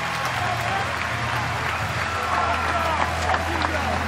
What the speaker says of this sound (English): Sam Highfield deserves every bit of applause that he is getting from the Wolfpack faithful